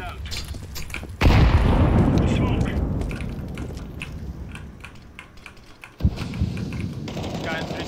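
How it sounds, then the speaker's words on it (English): Grenade explosion in a video game, a loud sudden boom that rolls off over several seconds, followed by a second sharper blast, with players talking throughout. "Grenade out."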